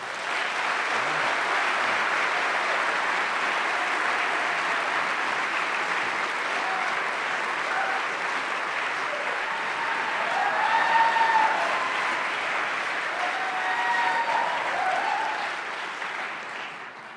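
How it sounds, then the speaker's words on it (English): Rapturous audience applause at the Westminster Town Hall Forum welcomes Andrew Zimmern, a dense, steady roar of many hands clapping that holds loud for the whole stretch and tapers slightly at the end. "Everyone listening on their radio is just wondering what the rapturous and thunderous applause was all about."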